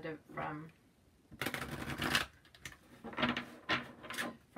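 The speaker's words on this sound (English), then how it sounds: "So I'm going to get an advice card" Oracle-style advice cards are shuffled and one is drawn, giving soft, close riffling and flicking bursts in short clusters. A quiet voice is faintly present between them.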